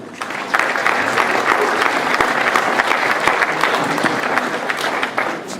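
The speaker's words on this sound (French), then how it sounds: "Ça s'applaudit." Audience applause at a talk on teaching horse riding through rhythm and music: steady, dense clapping from a crowd that holds for several seconds at even loudness and eases slightly at the end.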